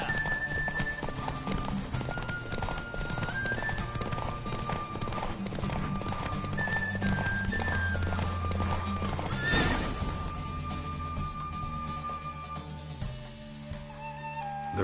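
Roach, Geralt's horse in The Witcher 3, gallops through a race with steady rapid hoofbeats over music, snorting and whinnying along the way, the pounding easing off near the end.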